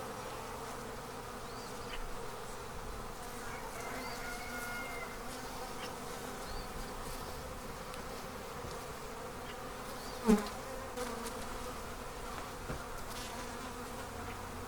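Honey bees swarm around a queen cage inside a newly installed package hive, their steady, close buzzing droning on without pause, with one brief louder bump partway through.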